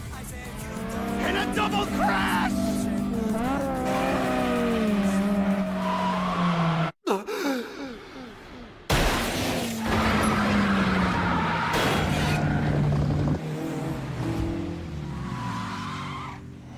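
Race cars drift down a mountain road, a Civic among them, with loud sustained engine whine and tyre squeal rising and falling through corners, broken by a brief sharp cut before the roar resumes.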